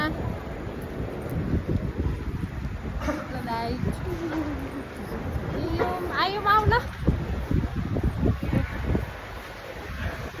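Gusty wind at an airport in Sydney rumbles and buffets the microphone throughout as people talk and call out close by.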